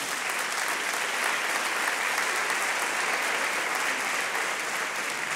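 A church congregation applauds: thick, even clapping that holds at a steady, fairly loud level throughout, with no voices standing out above it.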